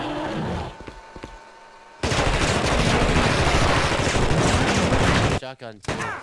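A machine gun fires in The Thing video game: after a quieter lead-in, a loud sustained burst of rapid automatic gunfire lasts about three seconds, then cuts off into a few softer trailing sounds.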